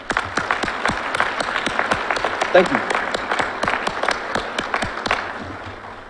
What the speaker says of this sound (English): And family and friends, please join me in giving them a round of applause.